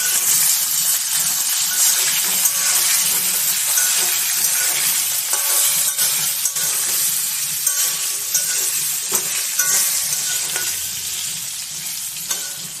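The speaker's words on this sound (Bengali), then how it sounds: "আলুটাকে ভালো করে লাল লাল করে ভেজে নেব।" Potatoes sizzle steadily in hot oil for a chicken curry, a dense continuous crackle with occasional sharper pops, close and fairly loud throughout, with no voices.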